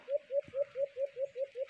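A Katian bird gives eight evenly spaced, rising calls in a steady rhythm, clear and fairly close, with no voices.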